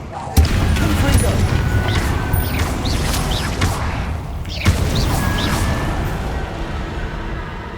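Repeated fire-spell explosions in the video game Hogwarts Legacy, a string of loud bursting blasts and crashes with sharp hits near 0.4 s and 4.7 s, layered over constant dense game noise.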